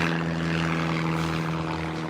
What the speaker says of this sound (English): a lot of little prop planes over at that airfield